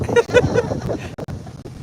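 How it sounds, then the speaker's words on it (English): Gusty wind buffets the microphone with low rumbling bursts, alongside faint voices and a brief tonal cry near the start. "It's awfully windy."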